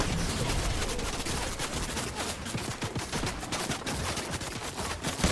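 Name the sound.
gunfire in battle royale video game (Apex Legends/Fortnite)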